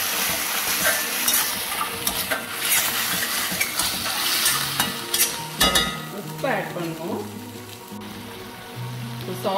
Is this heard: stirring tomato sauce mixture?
yes